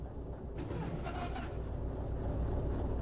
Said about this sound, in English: I need to start all these 3 locomotives.